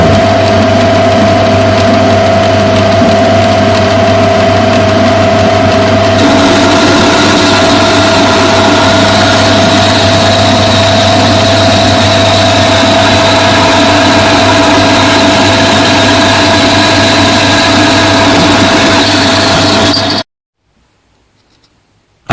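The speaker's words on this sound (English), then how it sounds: "I just made a scratch pass to verify that the threading gears were correctly set" A metal lathe running while cutting a thread with a spring parting tool on a flexible holder, a steady loud motor hum with scraping cutting noise over it, stopping abruptly near the end with no talk.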